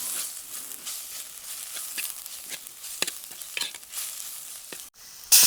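A spoon scrapes and stirs spices with turmeric powder frying in a pan for Kerala-style fish curry, the frying crackle steady underneath and ending in a short burst of louder noise.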